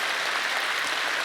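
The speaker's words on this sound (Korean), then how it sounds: "함께 격려하며 박수하겠습니다." A church congregation claps together at a thanksgiving testimony night, a brief, steady wash of many hands at an even level with no pauses.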